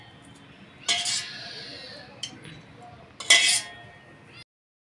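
Metal spoon or ladle clinking against a pot while cream is skimmed off buttermilk for Rajasthani rabdi, with two bright scraping clinks about two seconds apart over quiet kitchen background.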